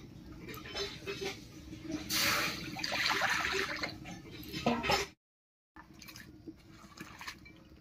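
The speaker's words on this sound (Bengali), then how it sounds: "এবার কড়াইতে জল দিয়ে বাঁধাকপিটাকে হালকা করে ভাপিয়ে নেব।" Water poured into a wok on a lit stove to steam cabbage, a rushing, splashing pour for about five seconds, a brief gap, then softer watery sounds.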